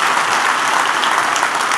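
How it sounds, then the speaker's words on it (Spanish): A church congregation bursts into steady, dense applause during a sermon, many hands clapping together at close range for a couple of seconds with no voices standing out. "Denle un aplauso al Rey bendito."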